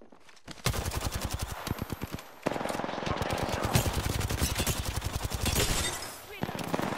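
Rapid automatic gunfire rattles through a video game in long bursts of closely spaced shots, loud and up close, with a short pause between volleys.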